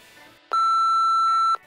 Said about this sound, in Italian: Allora io metterò il beep